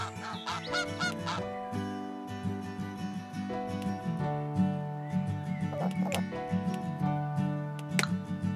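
Geese honking in the zoo-building game Let's Build a Zoo, a busy run of repeated nasal honks overlapping one another, loud and close, alone without talk.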